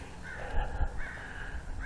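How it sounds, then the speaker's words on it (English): Harsh caws from an American crow in an old-town street, two or three close, loud calls in quick succession over a low outdoor background. "This crow is really an annoying son of a gun."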